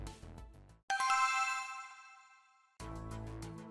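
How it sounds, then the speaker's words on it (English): A phone rings with a bright, tinkling melodic chime that sounds, decays over about two seconds and then starts again, loud and alone. "answer your phone."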